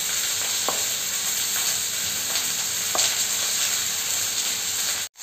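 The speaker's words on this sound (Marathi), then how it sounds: "आपले कांदे, टमाटर, मिरची, अद्रक भाजलं जात आहे" Onions, tomatoes, chili and ginger fry in a pan with a steady, even sizzling hiss and a few faint clicks, and no voices, before the sound cuts off abruptly near the end.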